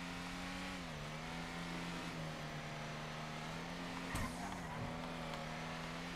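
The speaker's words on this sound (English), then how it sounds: "Engine really doesn't sound that good in the first couple seconds." A car engine in GTA 5 Online, one of the new Lampadati Michelli GT or Rune Cherburek models, holds a steady droning hum that dips briefly and recovers, with a short sharp transient near the end.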